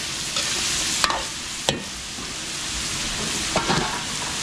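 Chopped lechon belly is stirred with garlic and onion in a large pan at a Pampanga fiesta, a loud steady sizzle with a few sharp spoon scrapes and clanks.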